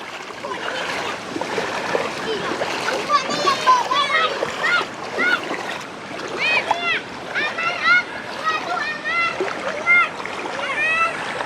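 Floodwater rushes and splashes across a cut-off road in Laos, a continuous churning wash of water with children and adults talking over it throughout.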